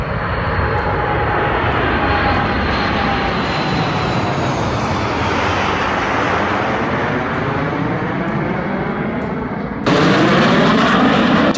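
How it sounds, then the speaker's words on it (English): Boeing 767 skidding down a runway without its landing gear, a loud continuous roar of engines and grinding scrape that holds steady, then jumps brighter and harsher near the end. "The moment the Boeing 767 skids down the runway without its landing gear makes viewers hold their breath"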